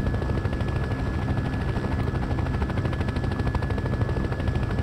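A helicopter in Farming Simulator 15 drones steadily with a dense, rumbling engine roar and fast rotor chop, loud and constant throughout with no talking.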